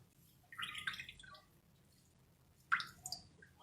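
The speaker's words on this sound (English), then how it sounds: "just give that a nice squeeze so that all the water is," Grated potatoes squeezed by hand for a frittata release water in two wet, splashy bursts of dripping and trickling, separated by a quiet pause.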